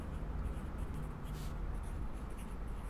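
A pen scratches across paper while marking a bodice sewing pattern, a close, quiet run of continuous scribbling strokes over a soft background hum.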